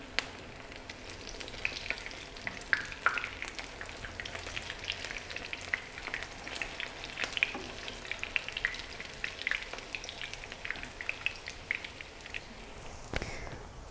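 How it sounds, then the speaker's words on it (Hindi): Potato chapli kebabs fry in oil in a pan with a steady, close sizzle and fine crackling pops running throughout, no voices over it. "जब तक कबाब फ्राई होते हैं"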